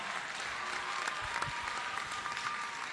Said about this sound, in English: let's give His Excellency a resounding round of applause.